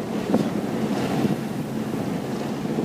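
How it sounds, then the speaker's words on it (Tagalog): Steady roaring wind buffets the microphone, with a constant rushing noise and no voices. "Makabil lakas ng hangin."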